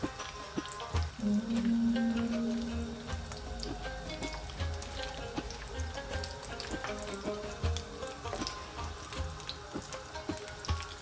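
Potato noodle balls sizzle and fry in hot oil in a wok, a steady crackling bubble close by with a brief tonal hum early on, no voices.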